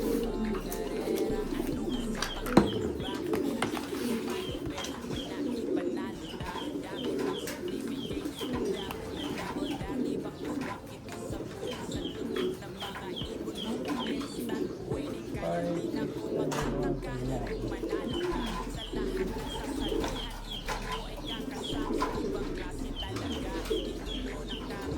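Racing pigeons, including a red checkered bird, coo in soft repeated low murmurs close by, with people talking over them throughout.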